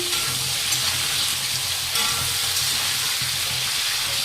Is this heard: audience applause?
no